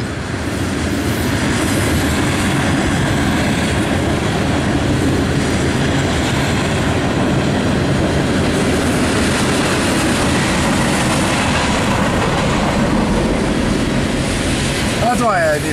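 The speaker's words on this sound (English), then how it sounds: "This is a long train." Long freight train with distributed power units and auto rack cars rolls steadily past, a continuous loud rumble and wheel noise with faint clatter, a brief squeal near the end, and someone talking over it.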